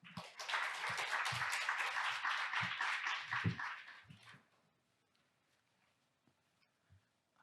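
Audience applause welcoming a presenter at a fintech conference session, a dense burst of clapping for about four seconds that then drops away to near silence with only a few faint scattered sounds.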